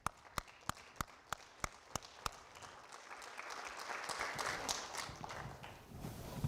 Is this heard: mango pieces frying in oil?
no